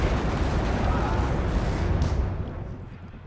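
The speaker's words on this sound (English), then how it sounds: "look at that accurate artillery coming in there" Artillery rounds land in the WARNO war game as a dense, rumbling barrage of booms that holds loud and then fades away over the last second.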